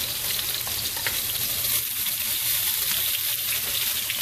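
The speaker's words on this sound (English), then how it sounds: "I'm going to saute my peppers and onions first." Peppers and onions sautéing in a hot pan, a close, continuous bright sizzle and crackle of frying with no talk over it.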